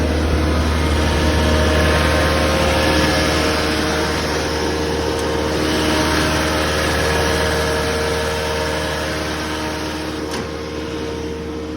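A 2014 Cat 257D open-station track loader with a Cat engine runs at a steady, close idle, a continuous low mechanical drone throughout with no talk.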